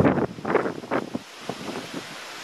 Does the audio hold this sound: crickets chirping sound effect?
no